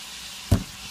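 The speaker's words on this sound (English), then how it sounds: "Now the burger's in there sauteing with the onions now." Ground beef and onions hit a hot pan with one short, loud burst of sizzle and stirring, then settle into a quieter, steady frying hiss.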